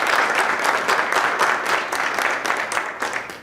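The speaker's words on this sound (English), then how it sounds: "Round of applause for the Burns family." A crowd at a memorial lecture applauds steadily, many hands clapping at once in a dense, lively burst that holds for a few seconds without any voices.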